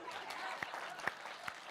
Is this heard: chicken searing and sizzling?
no